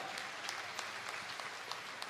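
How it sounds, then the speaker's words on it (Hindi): A crowd at a Jain religious gathering in Banswara, Rajasthan claps in a continuous, even patter with a few sharper claps standing out, moderately distant and fairly soft overall. "अरे ताली तो जोर से ठोको"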